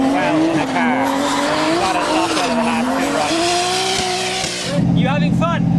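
Loud, close tire squeal and a wavering engine drone from a drifting car at Santa Pod, held through a long slide before shifting abruptly near the end into a harsher, chopped revving burst.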